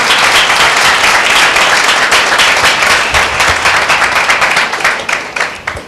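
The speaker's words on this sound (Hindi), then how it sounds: "क्या परमेश्वर को जोरदार ताली दें?" Church congregation gives a loud round of applause, dense steady clapping filling the space before it thins and fades toward the end.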